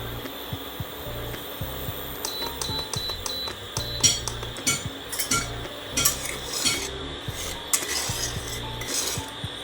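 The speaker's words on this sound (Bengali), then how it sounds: "শুকনো কড়াইয়ের মধ্যে নেড়ে নেড়ে ভালো করে ভেজে নেব এই সুজিটাকে" A spoon scrapes and stirs semolina being roasted in a dry metal wok, with dry rustling and occasional clinks, steady and close.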